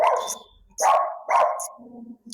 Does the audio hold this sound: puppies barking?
yes